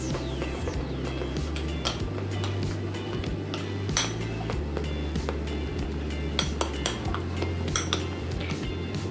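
Coloured cake batter is stirred in a bowl, with repeated clinks and scrapes of a utensil against the bowl in an irregular rhythm, close by over a low steady hum.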